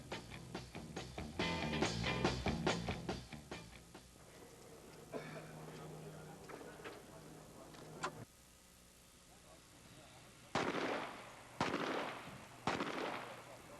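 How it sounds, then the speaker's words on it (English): Pistol shots ring out at a 25-yard moving target shooting event, a rapid string of sharp cracks at first, then a pause and three louder, widely spaced shots, heard at close range. "Now on to Mike Dalton, seen here at the 25-yard distance of the moving target event."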